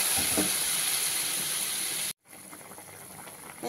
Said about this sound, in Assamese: কি ধুনীয়াকৈ উতলি আছে